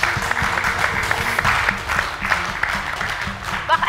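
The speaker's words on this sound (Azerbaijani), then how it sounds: "Alqışlayaq onu." A studio audience on a talk show applauds a doctor, dense steady clapping at moderate loudness with faint music underneath throughout.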